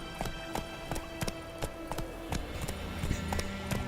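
Roach the horse gallops in The Witcher 3, hooves clip-clopping in a quick, steady run of sharp beats over low game ambience, close and clear throughout.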